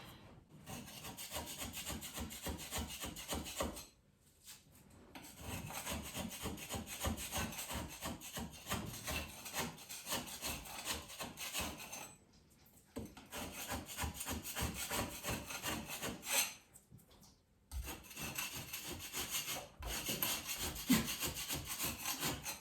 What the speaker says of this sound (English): when it's nice and wet, it's easy to scrape off right here